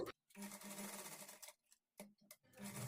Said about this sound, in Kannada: ಈ ಟೆನ್ಷನನ್ನು ಸ್ವಲ್ಪ ಸ್ವಲ್ಪ ದೂರ ಸ್ಟಿಚ್ ಮಾಡಿ ಮೇಲಕ್ಕೆ ಎತ್ಕೊಂಡು ತಿರುಗಿಸ್ಕೊಂಡು ಸ್ಟಿಚ್ ಮಾಡ್ಕೊಳ್ಳಿ